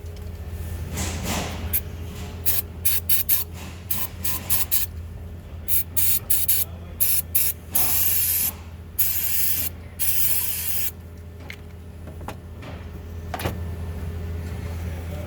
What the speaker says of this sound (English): we're actually physically gonna spray a product on there and clean this up